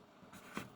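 A pen scratches across paper in a short burst of drawing strokes, close and quiet, with no voices.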